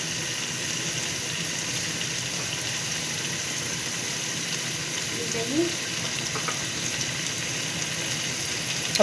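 Keema with black pepper and green chillies fries over high heat, giving a continuous, even sizzle that fills the whole stretch, with a faint scrape of a spoon stirring partway through.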